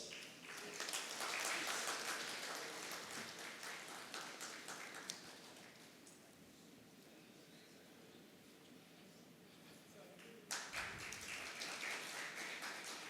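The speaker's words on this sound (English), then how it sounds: "A round of applause." Applause from an audience at a business conclave, a soft wash of scattered clapping that thins midway, then picks up again briefly near the end, heard from a distance.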